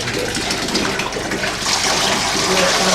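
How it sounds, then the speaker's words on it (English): Water runs and splashes steadily, a continuous wet gush that grows slightly louder toward the end, with no talking. Water coming from an outside tank. "I can hear water dripping."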